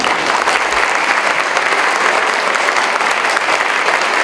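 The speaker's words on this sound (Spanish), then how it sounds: "Que se escuchen fuerte los aplausos" Sustained, loud applause from an audience at an event against violence, following a teacher's speech, dense and steady throughout with no voices over it.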